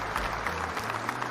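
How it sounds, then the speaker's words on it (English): Brief applause from a podcast audience, a dense patter of clapping hands at moderate level with a low hum underneath. "I'll take that applause."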